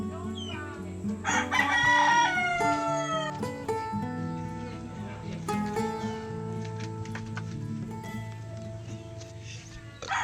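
A native Bisaya rooster crows loudly and close by in a rural provincial setting, one long harmonic call early on, followed by quieter clucks and background farmyard sounds.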